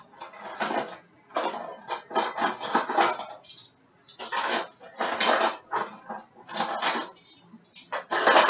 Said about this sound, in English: get another spoon